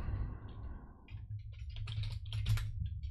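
Typing on a computer keyboard comes as a quiet, close run of light key clicks in a short irregular burst over a low background hum, with no talking.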